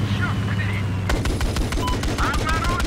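Rapid automatic gunfire in the video game Battlefield 4: a quick sequence of close, sharp bursts that starts abruptly about a second in and rattles steadily to the end, over a low background hum.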